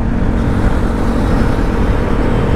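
A group of KTM Duke and RC 390 motorcycles rides past on a highway, a loud continuous engine and wind roar with no pauses.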